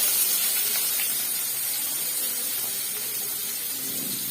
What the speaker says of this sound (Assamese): এতিয়া সেইখিনি তেলতে পাঁচফোৰণ দি দিম। জলকীয়া, পিঁয়াজ দি দিলোঁ।